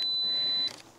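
A camera's self-timer gives one sustained, high electronic beep lasting just over half a second, then cuts off, leaving quiet room tone. No one speaks.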